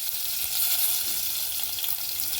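Garlic sizzles in hot oil in a pan, a soft steady crackle and hiss, fairly quiet and close, with no voices.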